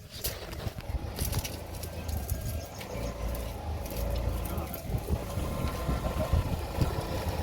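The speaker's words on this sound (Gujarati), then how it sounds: "મારો ભાઈબંધ એક્ટિવા લાયો." A Honda Activa scooter idles with a steady low engine hum throughout, joined by scattered clicks and knocks nearby, with no clear talking.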